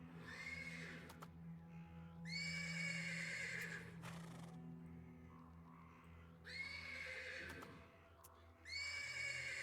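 In the video game Black Book, a horse neighs several times in drawn-out whinnies over a quiet ambient background, with a faint voice at moments.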